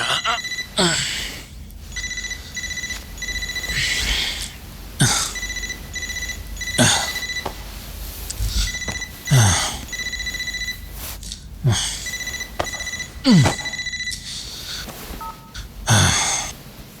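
A telephone rings repeatedly in an action movie scene, bursts of electronic ringing tones spaced a few seconds apart, fairly loud and close.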